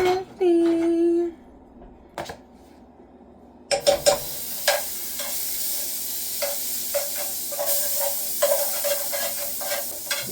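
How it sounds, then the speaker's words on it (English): An egg sizzles and crackles in a pan for an egg and cheese sandwich: a steady, close frying hiss kicks in after a few quiet seconds that open with a brief tonal sound. "So I'm about to make me a little egg and cheese with my coffee."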